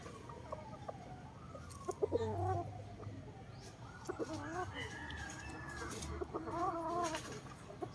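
A Boston gamefowl rooster in a backyard breeding yard clucks and crows, with several distinct calls rising over faint background noise and quiet talk nearby.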